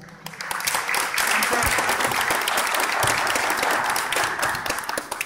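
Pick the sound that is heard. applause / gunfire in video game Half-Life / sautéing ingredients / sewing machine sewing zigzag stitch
applause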